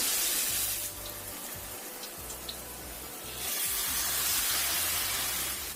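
Peanut cracker batter poured into hot oil gives a loud, continuous hissing sizzle that eases briefly, then swells again, close and without talk.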